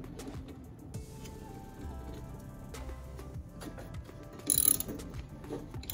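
A ratchet tightens the blade bolt on a Honda HRX 217 lawn mower, giving a run of quiet, close clicking turns with a brief louder burst near the end and no talk.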